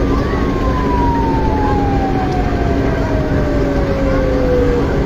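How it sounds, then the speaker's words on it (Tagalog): Fire truck siren at a residential fire in Paknaan, Mandaue City, Cebu, wailing steadily in a single long descending sweep over loud, dense background noise for the whole stretch. "Sinabot fire truck."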